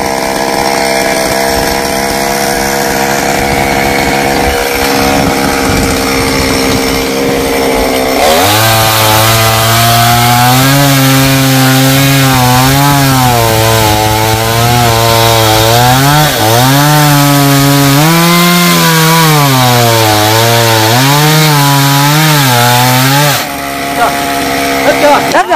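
A chainsaw cuts through coconut tree trunks. After a quieter start, the engine roars in close and loud, holding a high, steady whine that wavers in pitch as the blade bites into the wood, then drops off near the end.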